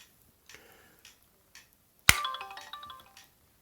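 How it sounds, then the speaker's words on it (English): A Samsung SGH E300 flip phone from 2004 snaps shut with one sharp, close click, followed by a short bright chime. Faint handling ticks come before it in a quiet room. "let me demonstrate the sound when you open and close the phone"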